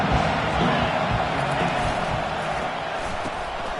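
A college football stadium crowd roars and cheers steadily, a dense, continuous wash of massed voices throughout.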